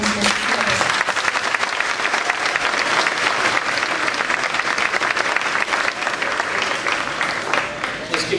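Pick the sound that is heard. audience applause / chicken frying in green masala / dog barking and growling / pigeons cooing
audience applause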